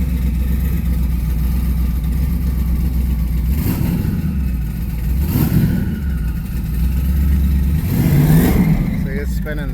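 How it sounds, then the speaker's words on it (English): A car engine, one with a TH350 transmission, revs loudly and up close in repeated bursts as the tires spin with little throttle, while someone talks over the steady engine drone. "See, it's spinning the tires right there."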